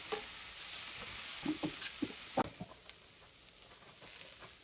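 Curry powder and ginger paste being stirred in a hot pan for eggplant curry, soft scraping strokes over a faint sizzle, with one sharper knock midway.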